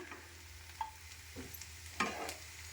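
Leftover chapati mixed with coriander is stirred in a hot pan, giving a faint sizzle with a few soft spatula scrapes and taps.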